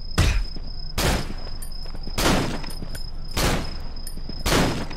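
Gunshots in the horror video game Cry of Fear, five loud booming shots spaced roughly a second apart, each with a short decaying tail over a steady high-pitched game hum, with no talking.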